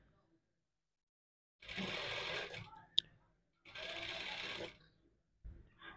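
A sewing machine stitches a sleeve at an armhole in two steady bursts of about a second each, separated by a brief sharp click and pause, with a short start at the end.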